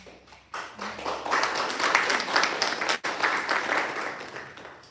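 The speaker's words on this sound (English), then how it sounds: "I love the claps" An audience breaks into applause at a poetry reading, clapping starting abruptly after a brief quiet moment, then building into steady, dense applause that holds with a short dip partway through.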